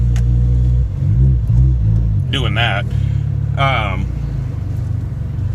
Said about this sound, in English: I'm just pushing the gas now. The car's just driving.